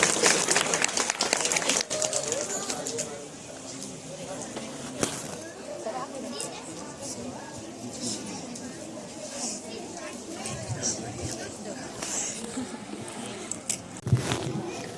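Applause from an audience at a school retirement ceremony, a dense, steady patter of many hands lasting throughout, mixed with voices talking and chatter from the crowd.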